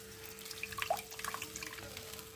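Strained tamarind water trickles and splashes quietly into a pot, with soft irregular drips and a faint steady hum underneath.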